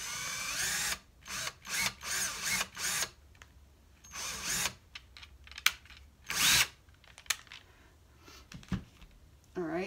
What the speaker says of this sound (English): try and drill right in the middle of that